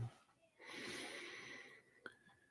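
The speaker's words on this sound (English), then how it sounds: "Maybe taking a deep breath or two" One slow, deep breath, airy and soft, drawn in and released in a quiet room during a guided meditation, followed by a short sharp sniff.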